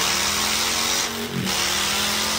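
A motorcycle with a steel 2-in-1 exhaust revs loud and close, a steady roar that briefly dips and swells as the throttle is blipped, with no talking.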